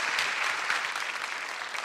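An audience at a live economics concert-style talk show breaks into brief, dense applause, loud and continuous clapping from many hands.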